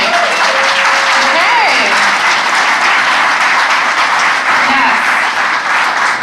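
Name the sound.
audience applause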